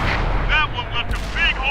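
A Cromwell tank cannon in a video game fires a loud, close booming shot that rumbles heavily, followed by a short rolling echo and lingering debris-like rumble.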